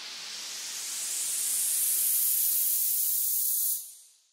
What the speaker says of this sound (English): I've got a noise riser, which is then being sent to some reverb.